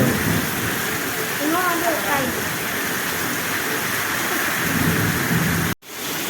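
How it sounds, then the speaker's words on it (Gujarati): Heavy monsoon rain pours steadily on a village in Junagadh district, Gujarat, a dense continuous roar with low rumbles of thunder beneath, ending in a sudden cut. "કડાકા અને ભડાકા વરસાદ ચાલુ છે."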